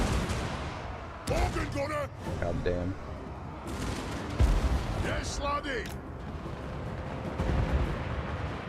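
Cannon artillery booms in Total War Warhammer 2, with repeated heavy blasts and battle noise rumbling throughout under a man's occasional spoken exclamations.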